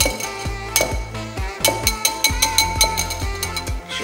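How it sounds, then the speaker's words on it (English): A metal whisk clinks and taps rhythmically against a bowl while eggs are beaten for a frittata, close and fairly loud, with repeated sharp strikes throughout. "Now use that whisk and start twisting it instead of whipping it."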